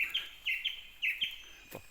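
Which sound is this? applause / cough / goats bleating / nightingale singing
nightingale singing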